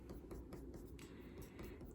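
Colored pencil pressed hard against paper while coloring a section, producing a faint, soft scratchy rubbing in quick back-and-forth strokes, quiet and close.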